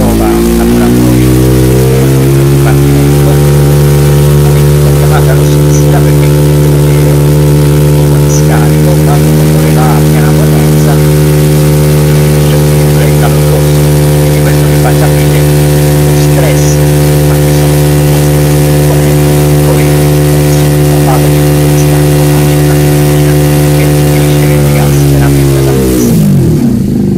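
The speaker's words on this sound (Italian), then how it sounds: "eccolo qui, il motore al banco prova" A supercharged engine runs on a test bench at a steady, loud drone with strong low harmonics, holding constant for nearly half a minute before winding down abruptly at the end.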